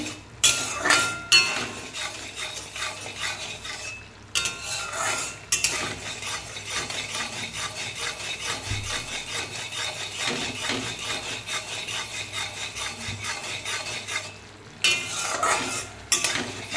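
Milk cream is stirred in a pan as it cooks down into ghee, giving a steady scraping and rubbing of the spoon with a soft sizzle underneath, briefly pausing a few times, close and fairly loud, with no talking.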